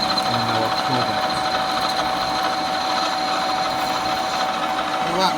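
Metalworking centre lathe facing off a metal workpiece and throwing off swarf, a steady close mechanical whine and hum that continues throughout without breaks.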